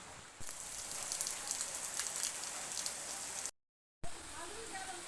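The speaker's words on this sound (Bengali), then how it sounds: "তো দেখতেই পাচ্ছ কী পরিমাণে বৃষ্টি হচ্ছে প্রচুর পরিমাণে বৃষ্টি হচ্ছে" Heavy rain pours steadily in a continuous dense hiss, broken by a brief dropout near the end before the downpour resumes.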